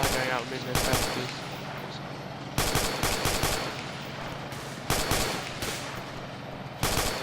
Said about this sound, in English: Ainsley, we got suppressive fire going out within the southeast.